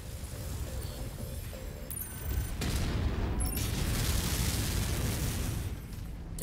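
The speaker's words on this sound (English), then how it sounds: "Little missile trade there." Missiles and weapons trade fire in the MechWarrior 5 video game, a dense rumbling barrage of explosions and bursts with a few sharp electronic beeps, loud and continuous across the whole stretch, with no voices.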